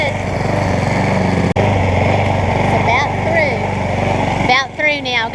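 A lawn mower runs continuously over hay mixed with fresh grass clippings in a no-till garden, its engine droning loud and close before a voice briefly speaks near the end.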